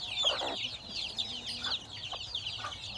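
A Rhode Island Red hen brooding on eggs, clucking softly in short repeated calls at close range in a quiet farmyard.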